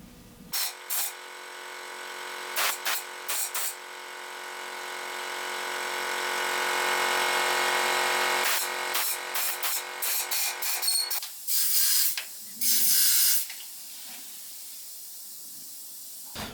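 Compressed air blasts debris out of Fireblade motorcycle carburetors: a long loud hiss that swells and holds, followed by several short sharp bursts near the end.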